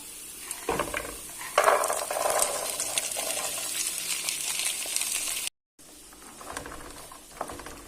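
Kidney beans sautéing in a pan, a steady close sizzle with scraping stirs and soft clatter of the spoon, pausing in brief silence before the frying resumes.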